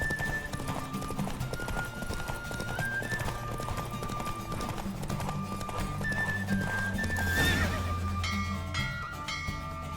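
A horse gallops with steady clip-clop hoofbeats and whinnies in The Witcher 3, over game music and crowd noise, during a horse race.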